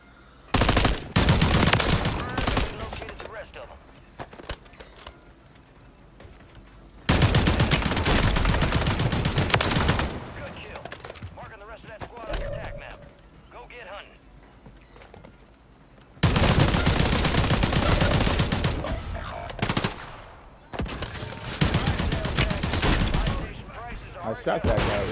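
Gunfire in Call of Duty, long loud machine-gun bursts in several blocks with quieter gaps between them, and voices talking during the lulls.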